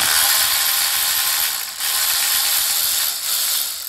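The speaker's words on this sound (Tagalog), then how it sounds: "Tatanggalin na natin yung 10 mil na bolt." Ratchet working a 10 mm bolt off the coil pack of a Suzuki Swift 1.3 during a spark plug change, a steady close rapid clicking that runs almost continuously with two brief pauses, no talk.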